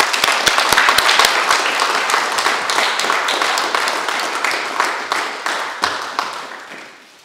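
Audience applause for Ian at a church gathering celebrating mission partners, a steady roar of many hands clapping close by that gradually thins and fades toward the end.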